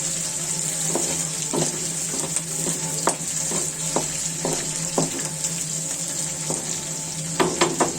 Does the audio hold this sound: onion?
yes